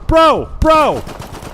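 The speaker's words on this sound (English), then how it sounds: "You're getting shot at and grenades thrown at you." Two loud, close gunshots crack in quick succession in the shooter video game S.T.A.L.K.E.R. 2, each followed by a short ringing tail.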